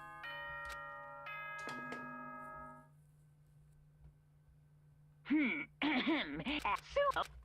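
The nighttime announcement chime in the Danganronpa: Trigger Happy Havoc video game rings as a series of clear, ringing bell tones fading into quiet, followed by a voice speaking over a low background hum.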